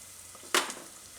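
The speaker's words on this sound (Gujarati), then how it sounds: "તેલમાં બધા મસાલા મિક્સ કરીને" Turmeric, coriander-cumin powder and chili hitting hot oil for pumpkin khichdi, one short burst of sizzling that flares up and fades within a moment, close and moderately loud.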